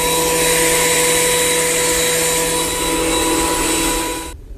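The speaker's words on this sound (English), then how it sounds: "Last pass through the planer." A thickness planer takes a last pass on a wooden cheese board with a loud, steady whine and roar that holds for about four seconds and then cuts off abruptly.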